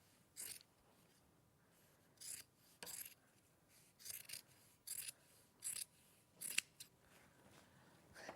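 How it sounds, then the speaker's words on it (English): Scissors snip fabric just outside a line of stitching, making a series of short, crisp cuts in irregular bursts at close range with quiet pauses between them. "you are going to trim it to just outside that stitching"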